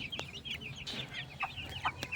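Several chickens cluck and squawk continuously at close range, overlapping in a busy, noisy flock.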